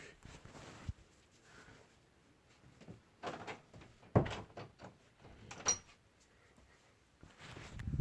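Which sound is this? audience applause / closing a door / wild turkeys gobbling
closing a door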